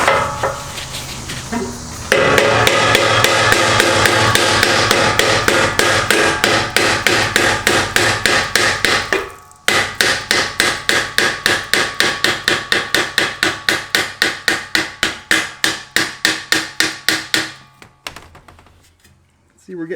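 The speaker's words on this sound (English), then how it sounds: "I've got my hammer here and I've got 2 pieces of wood" Hammer driving a BMW F30 exhaust tip on through a wood block, a close, loud run of sharp rhythmic knocks, fast at first, then a short pause followed by steady strikes that slow and fade at the end.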